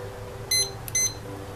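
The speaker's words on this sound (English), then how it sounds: "That's my timer I'm setting." A timer gives two short electronic beeps while it is being set, quiet and close, over a low steady background hum with no talking.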